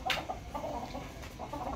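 Hens cluck repeatedly while being herded along on a poultry farm, a cluster of short, close, fairly loud clucks over steady background noise, with no talk during the sounds.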